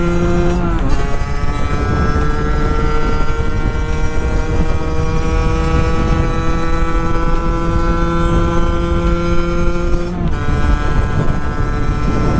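A Sherco 50 SM motorcycle's small engine screams at a high, steady pitch near top speed, loud and continuous, with wind buffeting the microphone throughout.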